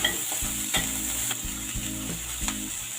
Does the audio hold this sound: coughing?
no